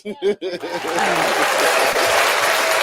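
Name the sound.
clapping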